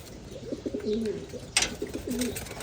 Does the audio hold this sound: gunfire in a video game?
no